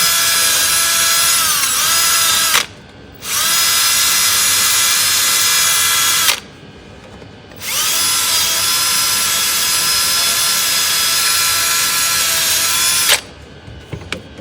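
A power drill with a brush attachment whines loudly in long steady bursts, cleaning parts during a water pump replacement on a 2015 Chevrolet Silverado 5.3L, stopping briefly twice between runs, with a high-pitched spinning brush grind throughout.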